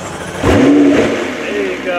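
A car engine in someone's collection fires up with a sharp start and quick rev, then settles into a rough idle, close and loud, with a voice speaking over it.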